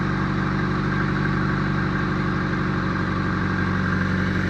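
A 1990 Mazda Miata engine idles steadily and close up after a fuel pump replacement, a constant low rumbling drone with an even, unchanging pulse and no talking.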